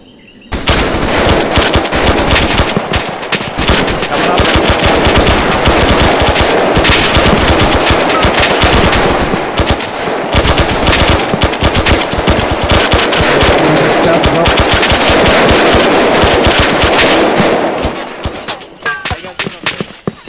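Sustained automatic gunfire rattles through a video game military operation set in Vietnam against the Viet Cong, loud, dense bursts continuing almost nonstop before tapering off near the end.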